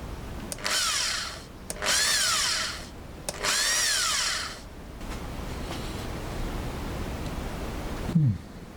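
A power drill with a 3.5mm bit whirs in three bursts of about a second each, separated by short pauses, on a Corgi Juniors die-cast Aston Martin DB6 toy, then quieter rustling and a brief low thump at the end.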